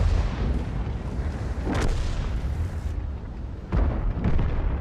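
Tank guns fire and shells explode in World of Tanks, a steady heavy rumble of engine and battle noise broken by a couple of sharp cannon blasts, loud and dense throughout.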